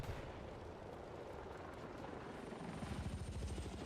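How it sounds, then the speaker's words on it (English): A helicopter flies over a Battlefield 6 battlefield, its rotor chopping into a rhythmic thump that grows louder toward the end, under distant gunfire and explosions. "Helicopter flying over."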